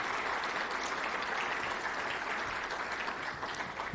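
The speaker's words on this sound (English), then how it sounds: "Another round of applause for Will for being here with us today." A banquet audience gives a round of applause, a smooth, steady wash of many hands clapping at moderate volume for the whole stretch, with no voices over it.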